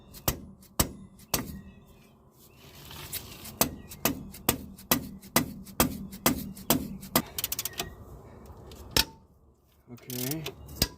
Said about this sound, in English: I'm gonna try the old hammer method.